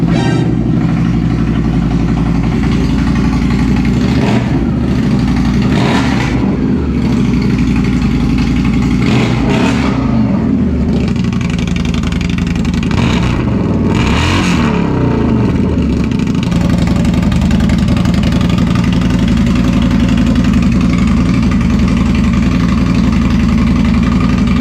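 An Indian Scout motorcycle fitted with a Two Brothers Racing Comp S 2-into-1 exhaust runs loud and close, a deep steady idle broken by several sharp throttle blips and revs before settling back to a rumble.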